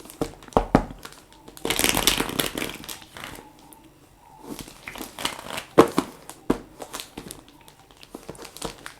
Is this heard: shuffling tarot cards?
yes